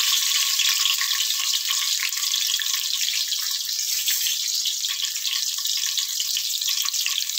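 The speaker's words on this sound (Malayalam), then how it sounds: "തേങ്ങ നമുക്ക് നല്ലോണം ഒന്ന് മൂപ്പിച്ചെടുക്കാം." Grated coconut and fenugreek frying in oil in a pan, a loud, dense, continuous sizzle held close throughout.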